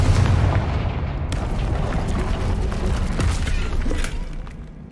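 In the video game Hogwarts Legacy, a Confringo fire spell explodes with a loud, booming blast, then rumbling crackle and debris that trail off and fade over several seconds.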